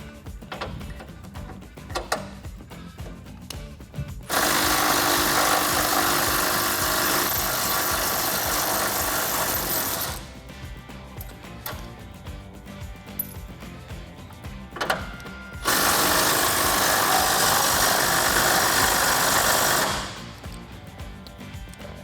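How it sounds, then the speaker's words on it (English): A 3/8 impact gun with an 18mm socket spins off tow hook bolts on a 2011-2016 Ford Super Duty, two long loud whirring bursts separated by quieter handling noise. "I'm going to take my 18mm socket on a 3/8 impact gun and get these bolts off"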